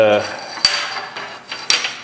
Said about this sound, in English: this is a little trim hammer, a little tiny hammer, for beating out trim like this